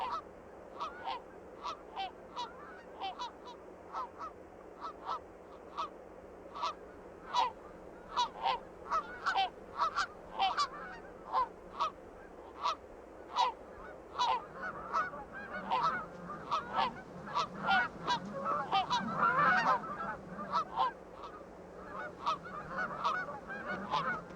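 Geese honk repeatedly in an irregular, steady stream, a flock calling at moderate distance, growing busier and louder toward the end.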